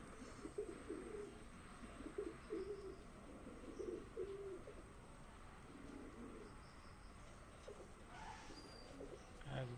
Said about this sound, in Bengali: এগুলো সব ব্রিডিংয়ের পায়রা